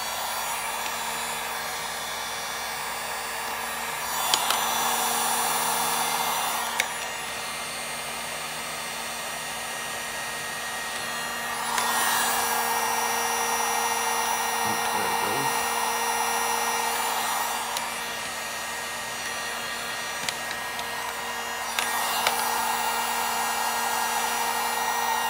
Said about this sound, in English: I had to heat it up with the heat gun a little bit more just to get all the glue to start coming out